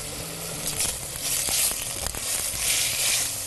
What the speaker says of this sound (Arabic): ضروري نقليها للباميه قبل ما اي استخدام كان بالزيت او